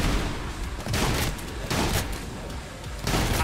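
Video-game combat in Trepang2 gives dense bursts of gunfire and booming impacts, a grenade among them, loud and continuous over a few seconds with no talk.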